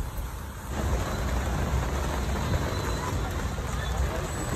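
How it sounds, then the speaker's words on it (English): Rain falls steadily during a thunderstorm at an outdoor August event in Reno, Nevada, a dense close patter that swells after the first second, with people talking faintly in the background. "Just last minute drizzle."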